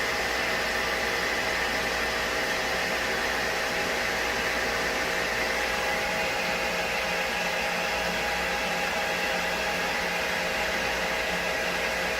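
A Cruisair HVAC chiller vent on a 50-foot Prestige boat blowing cool air, a constant broadband airy rush with a faint hum beneath, steady and close for the whole stretch with no talk.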